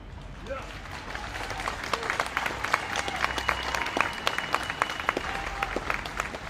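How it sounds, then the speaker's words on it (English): A smattering of clapping, with scattered sharp claps over a low rumbling background and some voices underneath, irregular and moderately loud. "give yourselves a clap, you deserve it"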